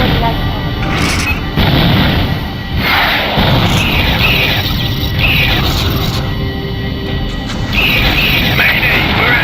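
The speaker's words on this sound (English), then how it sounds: "Raiders have destroyed the light pod." Raiders destroying a light pod in a space-combat video game, heard as a continuous series of loud, close booming explosions and crashes that keep going for the whole stretch, with a voice speaking over them.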